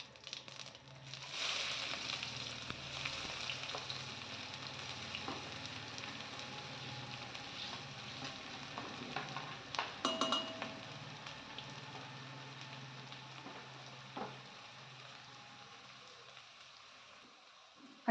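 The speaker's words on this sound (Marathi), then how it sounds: "आता यामध्ये बारीक चिरलेला कांदा घालूया." Finely chopped onion frying in a pan with cinnamon and cardamom for soya chunks masala gives a faint, continuous crackling sizzle with a few sharper pops, no voices.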